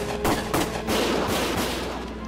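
Several loud bursts of gunfire in the video game Valkyria Chronicles, spaced a few tenths of a second apart, then a denser rattle of shots with dense battlefield noise behind them.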